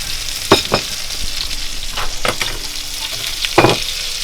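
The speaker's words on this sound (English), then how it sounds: "I am adding the sausage back in" Sausage pieces stirred into a pan of sauteed apples, celery and onions, giving a steady soft sizzle broken by three or four brief clattering scrapes of a utensil against the pan, close and alone with no talking.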